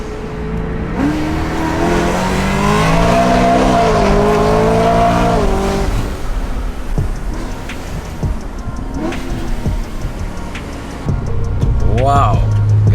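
A 700hp supercharged Frozen Silver BMW E92 M3 accelerates hard, its engine note rising through the gears with loud, rasping harmonics and a brief lift between shifts, then easing off into road and cabin noise with a short squeal near the end.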